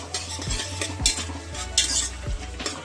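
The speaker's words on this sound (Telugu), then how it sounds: "ఆనియన్ పచ్చిమిర్చి బాగా వేగాలి" Onion and green chili frying in a pan with ginger paste, a steady close sizzle broken by repeated scraping stirs of a spatula against the metal, no voices.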